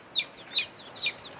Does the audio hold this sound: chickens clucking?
yes